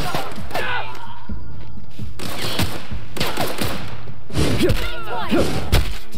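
Gunfire in The Outer Worlds video game: several short, loud shot bursts and thumps scattered across the clip, with game voices and effects mixed in.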